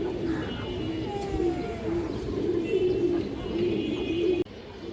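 Silver pigeons coo in a loft, a low rolling murmur of overlapping coos repeating close by, with faint chirps and a sudden drop in level near the end.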